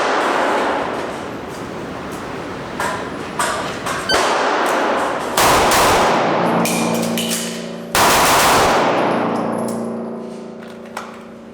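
Pistol shots crack out during a F.A.S.T. shooting drill on a range: a quick pair, a pause for a reload, then a rapid string of shots, loud and close with ringing decay.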